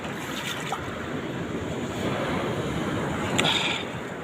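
Swollen river water rushes high and steady, a broad continuous roar that swells slightly midway, with a few faint higher clatters on top and no voices.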